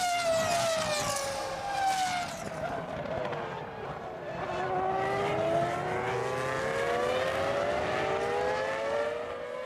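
Formula 1 cars at the 2005 French Grand Prix, a Toyota with a Ferrari tucked close behind, scream past with loud, high-pitched engine whines that rise and fall continuously as several cars sweep by.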